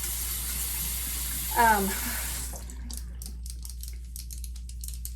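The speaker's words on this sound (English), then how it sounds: "Now I'm gonna go ahead and rinse this off." Tap water runs into a sink to rinse a dermaroller, a steady splashing stream that stops partway, followed by light dripping and clicking, with a brief spoken word near the start.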